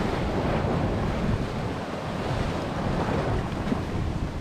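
Strong surf breaks continuously along the Vengurla coast in rough sea, with loud wind buffeting the microphone in a dense, unbroken roar close by, and no voices.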